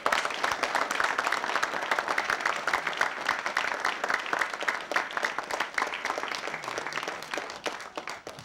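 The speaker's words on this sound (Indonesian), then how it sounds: "kita beri tepuk tangan buat para peserta." A studio audience at a comedy quiz show claps steadily for several seconds for the contestants, a dense patter of many hands that gradually thins and fades toward the end.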